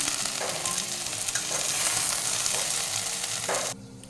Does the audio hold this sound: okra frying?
yes